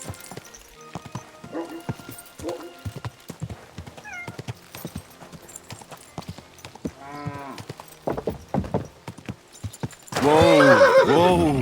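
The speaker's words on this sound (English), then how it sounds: "that looks like a bloody expensive horse" In Kingdom Come: Deliverance II, hooves clip-clop in an uneven rhythm amid scattered voices, ending in a loud, close horse neigh that rises and falls.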